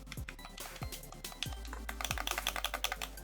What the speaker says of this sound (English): That's the cheap plasticky clacky sound, not mechanical clacky.